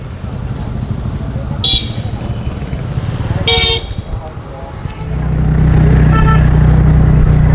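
Close motor rumble of a scooter idling and then revving steadily louder, with two short horn toots from passing traffic and voices talking over it.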